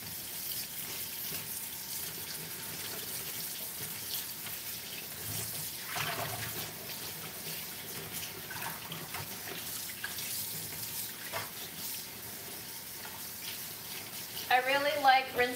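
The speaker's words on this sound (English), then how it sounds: "rinse off the stems, and then rinse off the leaves for a final time" Kitchen tap water runs steadily while leafy vegetable stems and leaves are rinsed in a colander, a constant close hiss and splash with brief louder splashes near the end.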